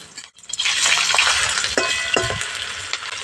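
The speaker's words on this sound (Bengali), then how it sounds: "আমি খুব বেশি তেল দিইনি, অল্প তেলে এটা ভাজছি।" Potato peels fry in a small amount of oil over medium heat, making a bright, steady sizzle close by. A few soft stirring thumps and a faint clink sound early on.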